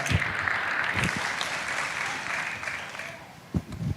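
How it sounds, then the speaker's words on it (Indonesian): A church congregation applauding during an Indonesian sermon, a sustained, fairly distant wash of clapping with a few louder close thumps near the end. "Boleh kasih tepuk tangan dulu yang dahsyat."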